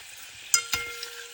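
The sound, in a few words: rosemary leaves boiling in hair oil on low flame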